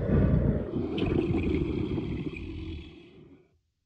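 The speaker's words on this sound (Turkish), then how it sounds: "Tiger." A tiger gives a deep, rumbling roar that is loud and close, sustained for about three seconds before it fades away, heard alone without voices.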